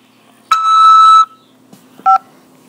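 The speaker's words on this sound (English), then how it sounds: "After the beep, press 5 to accept this call." Two electronic phone keypad tones on a call from a corrections facility, a longer one followed after a pause by a short one, clear against a faint steady hum.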